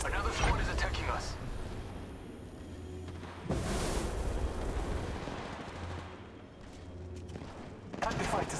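Distant gunfire in Apex Legends Mobile during a chaotic squad fight, continuous faint shots and bursts under a steady bed of game noise and loud impacts.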